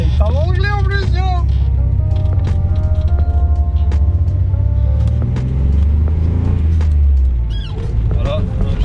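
Engine of a Nissan Datsun 270Z car accelerating, a loud low droning rumble that rises and holds steady throughout, with engine pitch sweeping upward near the start.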